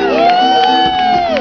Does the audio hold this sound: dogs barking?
no